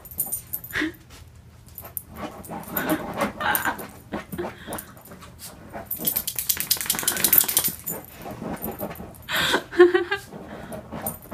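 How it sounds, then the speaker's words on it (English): A dog pants rapidly and gives excited whimpers and short barks nearby, with bursts of scrabbling, while people talk over the commotion. "Okay, dogs. Okay, Tripsy's just going crazy."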